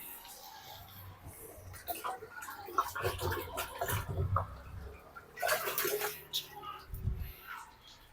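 Water sloshed across a freshly scrubbed floor to rinse it, heard as a series of close, uneven splashes and pours with quieter gaps between them, while people talk nearby.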